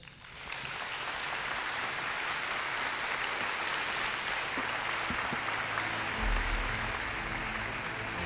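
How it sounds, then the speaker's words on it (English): Sustained applause from a large crowd at a university plenary session fills the whole stretch, steady and dense, with no voices rising above it. "let's give another round of applause"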